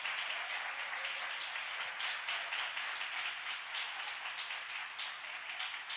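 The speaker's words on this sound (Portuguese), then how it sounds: "Você pode aplaudir ao Senhor por isso" Church congregation applauding after a sermon remark, a steady dense wash of clapping that holds evenly for several seconds with no voices over it.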